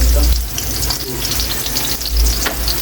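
Chili and onions sizzle steadily in a hot pan, a loud continuous frying hiss with occasional stirring scrapes, close up and without speech.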